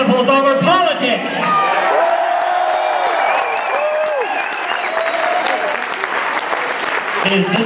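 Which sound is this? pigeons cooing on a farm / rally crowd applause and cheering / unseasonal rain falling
rally crowd applause and cheering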